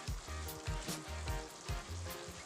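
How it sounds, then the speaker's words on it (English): Ground beef browns in a pan for Jamaican beef patties, a steady sizzle close by with a few regular bumps that could be stirring, no voices. "I'm going to leave the meat to brown. Have a good browning."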